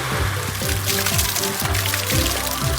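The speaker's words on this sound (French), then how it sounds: "Regarde ces puissants jets d'eau." Steady, forceful water jets from a fire truck's water cannon hiss and splash continuously, with a low rhythmic pumping pulse repeating underneath, in an animated cartoon.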